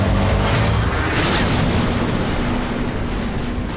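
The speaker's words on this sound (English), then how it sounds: "Did you just explode Anthony?" A loud, sustained explosion from the Twisted Metal car-combat video game, a dense roaring blast that rumbles on steadily for several seconds with no pause.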